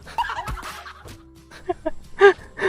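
A few short clucks and squawks from a chicken, close by, with brief gaps between them and some background noise.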